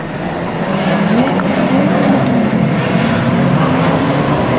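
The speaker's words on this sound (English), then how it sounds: "our cars are making their way through turn 1, 2 by 2 in many cases" Loud, continuous roar of several closed-wheel race cars driving through a turn together, often two abreast, at Mission Raceway, a dense wall of engine noise without a break.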